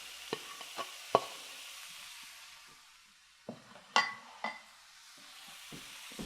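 Shrimp and zucchini pasta with garlic and lemon sizzles faintly in a pan as it heats, a soft steady hiss broken by a few sharp clinks and scrapes of utensils.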